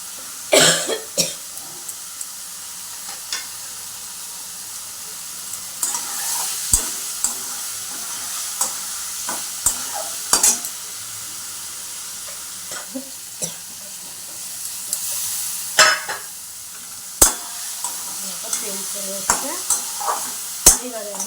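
Turmeric being stirred into fish curry frying in a pan, with a steady sizzle and repeated sharp scrapes and clinks of the spoon through the whole stretch, plus an occasional cough nearby.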